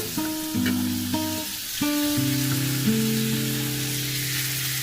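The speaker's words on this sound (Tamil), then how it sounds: "கடாயில் கொஞ்சம் பட்டர் போட்டிருக்கேன் அதில் இந்த பன்னீர் இது மாதிரி கட் பண்ணி வச்சுருக்கேன் அதை கொஞ்சம் போட்டு" Cut paneer cubes fry in butter in a kadai for palak paneer, a loud steady sizzle close by with layered tonal hum from the stove area and no voices.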